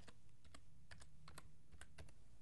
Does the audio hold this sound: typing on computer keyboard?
yes